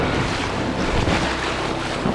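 Ocean surf crashing at the shore on an early spring morning in East Lothian, a loud continuous roar of breaking water mixed with heavy wind buffeting the microphone, no voices.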